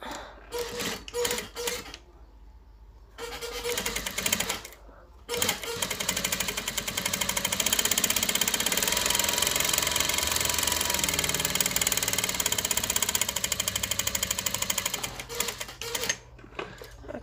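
A sewing machine stitches a kurta collar in a long continuous run, preceded by short start-stop bursts; close and loud, with brief talk early on.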